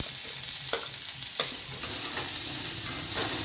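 Chow chow (Bangalore brinjal) pieces and lentils sautéing in hot oil in a pan for thuvaiyal, a steady close sizzle with a few sharper stirring scrapes and clicks throughout, no voices.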